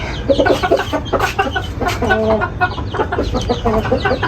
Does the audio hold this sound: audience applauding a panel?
no